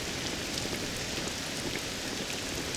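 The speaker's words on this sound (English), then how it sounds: "This accursed rain will chill ye to the bone." Steady, dense rainfall in the Dragon Quest VII Reimagined video game, a continuous hiss of rain on surfaces with no voices over it.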